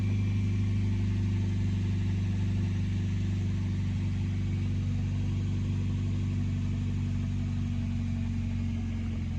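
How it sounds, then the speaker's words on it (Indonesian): A 2003 Toyota Vios with a header exhaust idles steadily with a deep, bassy exhaust rumble, continuous and close for the whole stretch, no talking. "mesin sudah dalam kondisi menyala. Kebetulan karena knalpotnya menggunakan header, jadi suaranya rada"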